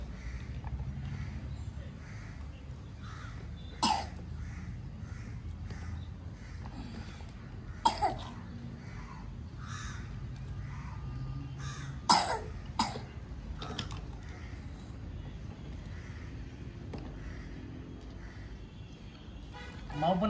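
A sick child coughs a few separate times, sharp isolated bursts spaced several seconds apart, over steady low household background noise, at moderate distance.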